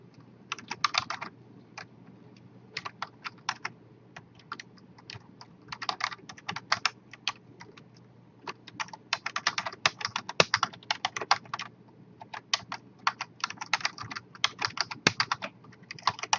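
Computer keyboard keys clatter in bursts of quick typing with short pauses, a password being entered; the clicks are close, crisp and alone without talk.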